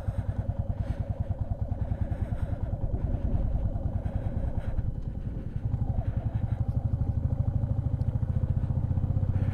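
A motorcycle loaded with extra weight climbs the dusty road to Khardung La pass, its engine thumping in a fast, steady pulse close by, dipping briefly and then pulling strongly again.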